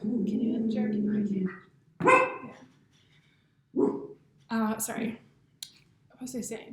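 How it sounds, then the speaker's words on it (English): A dog barks in the room during an online discussion, with a few sharp yips and barks between stretches of nearby talk, the barking moderately loud and partly mixed under the voices. "Sorry about my dog."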